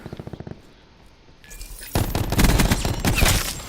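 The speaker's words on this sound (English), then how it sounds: "I hear so much gunfire." Rapid bursts of automatic gunfire in a video game team deathmatch, a short rattling volley at first, then denser, louder sustained firing and explosions crowding together in the heat of the match.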